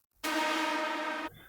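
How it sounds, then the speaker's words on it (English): A dense, washy reversed synth tone with heavy reverb rises in quickly, sustains for about a second, and stops abruptly, leaving a faint airy residue. "at the end there's a reversed synth,"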